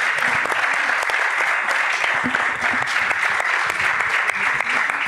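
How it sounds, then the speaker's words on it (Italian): An audience at the ALEcomics 2021 comics festival applauds young people, loud dense clapping that carries on steadily for several seconds with no letup. "un applauso questi ragazzi se lo meritano"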